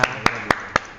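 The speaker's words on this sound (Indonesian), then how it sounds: "tepuk tangan Omeka." Five sharp, evenly spaced hand claps ring out in a quick steady rhythm at an event talk show, loud and close with nothing else around them.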